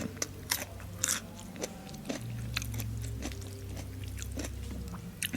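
Single-clove garlic bitten and chewed, several sharp crunches near the start, then a lower steady sound of chewing up close, eaten alongside rice noodles with coconut curry and chicken feet, with no clear talking.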